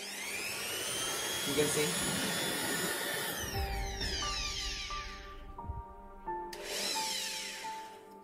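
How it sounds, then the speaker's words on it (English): A Jakmister 700W electric air blower runs at its minimum setting, giving a steady close-up motor whine and rushing air whose pitch shifts a little as it spins, with someone talking over it. "Now, I'm just gonna press the trigger of the blower."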